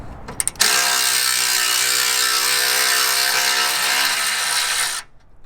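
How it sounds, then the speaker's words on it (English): A Milwaukee 10 mm power ratchet runs steadily for about four seconds, a loud close buzzing whir undoing bolts on a Honda Integra DC5 Type R, preceded by a few quick clicks and ending abruptly. "let's undo these two bolts first and then let's get her out. Cheeky Milwaukee 10 mil, so I can crack it first."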